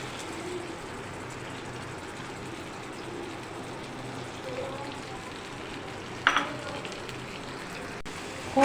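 Keema kebabs cook on a hot tawa with a steady, even sizzle throughout, broken by one brief clatter near the end.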